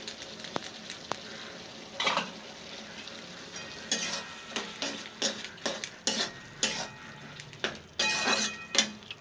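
Poppy seed paste stirred with a utensil in a cooking pot, irregular scraping and clinking strokes that grow busier toward the end over a faint sizzle, close up without speech.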